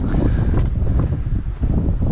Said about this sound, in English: another windy day, it's picking up again